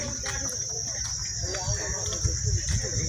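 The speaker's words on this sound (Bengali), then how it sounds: "যেতে যেতে কখনো নিঃশব্দ ঝিঝি পোকার আওয়াজ," Crickets in the Sundarbans forest keep up a continuous high, shrill chirping drone, with softer rustling and faint ambient sounds of the woods beneath it.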